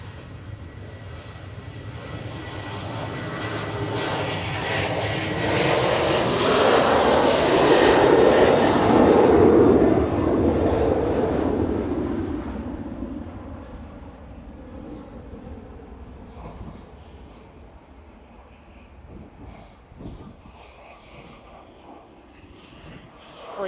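A Ryanair jet airliner takes off at Manchester Airport, bound for Alicante. The engine roar swells to a loud peak midway, then fades into a distant rumble, with no voices.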